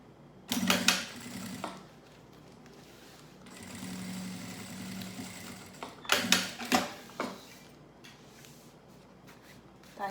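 Sewing machine topstitching the lining and main fabric of a thermal school lunch bag, short separate runs of fast stitching between quieter pauses with faint handling noise.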